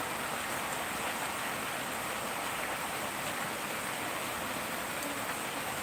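Heavy rain falling as a dense, steady roar of broadband hiss that holds unchanged for the whole stretch, loud and close, with no other sounds standing out.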